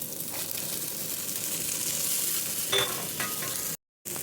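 Masala with grated coconut frying in a pan for an alasande (black-eyed bean) curry: a steady, close sizzle with a few stirring scrapes, then a brief cut to silence near the end.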